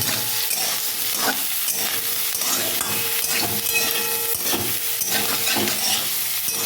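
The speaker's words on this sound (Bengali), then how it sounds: "একটা পটল আমি নিয়েছি এটা আমি একটু এর মধ্যে ভেজে নেবো" Pointed gourd (potol) and prawns frying in a pan: a steady, loud sizzle and hiss with repeated stirring scrapes, and no voices.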